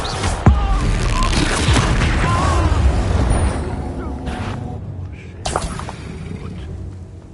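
Booming, crashing spell blasts from the Hogwarts Legacy video game, with a dense roaring burst up front that thins into sharper whooshes and cracks near the end, loud and continuous with no speech.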